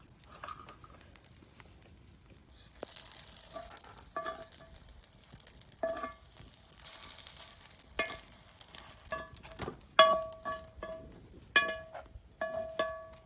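A snack with egg fries in just a little oil on a hot tawa, giving a quiet, steady sizzle broken by a few sharp taps and clinks of a utensil toward the end.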